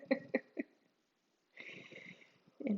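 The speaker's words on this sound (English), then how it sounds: "my big dog is snoring so sweetly in my ear" A large dog snores close to the ear in a quiet room, a few short raspy snorts followed by a longer wheezing breath.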